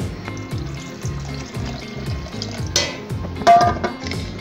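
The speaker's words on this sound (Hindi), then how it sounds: "अब इसके अंदर मैं दोबारा पानी डालूंगी" Water poured into a tamarind and dried plum sharbat mixture in a kitchen, giving soft splashing and stirring sounds with light rhythmic clinks, close and fairly quiet with no talking.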